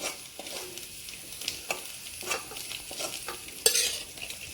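Fried ivy gourd pieces being scooped out of a pan into a bowl of rubbed chili and salt, with soft scraping and scattered metal clinks over a faint sizzle, ending in one sharper clatter near the end.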